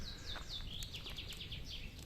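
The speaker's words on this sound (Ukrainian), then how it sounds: "Пташки співають" Small birds chirp and trill in quick, repeated high-pitched notes by the Southern Bug river near Vinnytsia, fairly faint and a little distant, with a quiet background.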